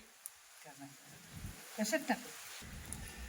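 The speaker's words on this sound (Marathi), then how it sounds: "मिरची छान भाजून घ्यायची" Green chilies roast on a hot iron griddle over a wood fire, giving faint, intermittent sizzles and a few sharp crackles clustered near the middle, with a voice nearby.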